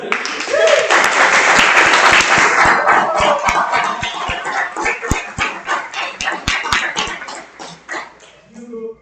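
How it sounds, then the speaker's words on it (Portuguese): An audience in a seminar hall applauds for the speaker Lucas, a dense burst of clapping that starts loud and thins into scattered claps, with voices and a brief dog-like sound mixed in. "Então, palmas para o Lucas."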